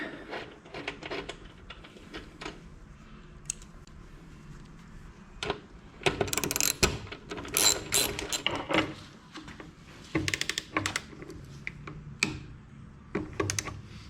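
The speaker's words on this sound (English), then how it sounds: "Mark is just putting the other bolts in, and we're putting a little bit blue Loctite, and now we're going to put them all in" A ratchet wrench tightens the saddlebag bolts on a 2022 Harley-Davidson Street Bob 114 fitted with Viking Aviator bags, with quick bursts of close, sharp clicking separated by quiet pauses and small metallic handling noises.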